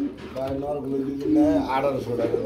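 Spanish pigeons cooing at a busy pigeon market, soft repeated coos blending with steady nearby conversation throughout.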